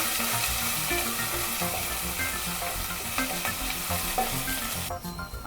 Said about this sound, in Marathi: अद्रक लसूण पेस्ट टाकते, हलवून घेऊ आपण थोडा वेळ।